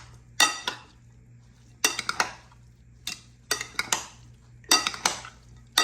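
Seaweed salad tossed in a bowl with utensils, giving four clustered bursts of scraping and clinking roughly a second apart, close and fairly quiet over a low steady hum.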